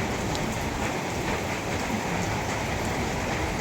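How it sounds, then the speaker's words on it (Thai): Heavy rain pours steadily and loud in a rural Thai village setting, a dense continuous hiss with scattered drips and splashes throughout and no voices. "วันนี้ยังเห็นไหมวันนี้ฝนตกดีมากเลยตายายครับ"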